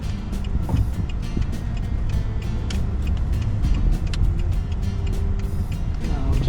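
Car slowly pulling into a parking spot, a close steady engine and road rumble with a few clicks and knocks, continuous and moderately loud.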